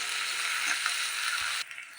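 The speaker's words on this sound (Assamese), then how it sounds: "এইখিনিও মই পিঁয়াজৰ লগত ভালদৰে ভাজি ল'ম।" Onions with ginger-garlic paste frying in a pan, a steady loud hiss of sizzling oil that stops abruptly near the end, followed by a few faint clicks.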